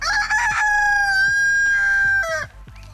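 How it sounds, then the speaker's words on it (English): A rooster crows once, a loud, sustained cock-a-doodle-doo held for over two seconds up close, with faint clucking from other chickens underneath and a brief tail at the end. "There's the rooster."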